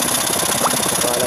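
Honda Vision scooter with a crankshaft position sensor fault, its starter motor cranking in a fast, even whir without the engine catching, close and fairly loud for just over a second.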